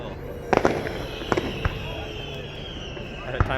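Canada Day fireworks exploding, with scattered sharp bangs and crackles a short way off over steady outdoor crowd murmur, a few spaced bursts across the moment.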